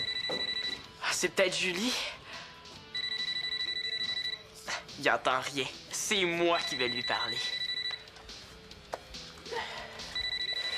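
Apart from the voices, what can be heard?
telephone ringing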